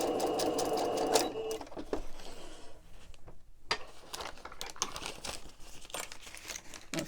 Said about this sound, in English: So I'm going to sew this edge down.